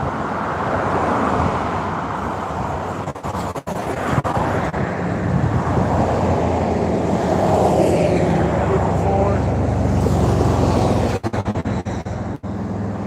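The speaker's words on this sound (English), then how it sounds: "I hope the traffic noise isn't too bad" Steady roar of road traffic on a busy major route, with cars passing continuously at moderate distance and a wind-buffeted broadband rumble; a person talks over it.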